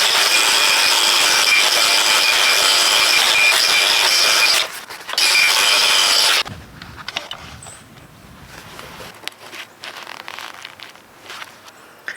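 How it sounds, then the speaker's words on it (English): An angle grinder fitted with a compound-loaded wool pad buffs a steel chisel for a pergola timber-framing job, a loud steady whine running for about six seconds with a brief dip, then stopping and leaving quiet handling noises. "all I do is take my angle grinder"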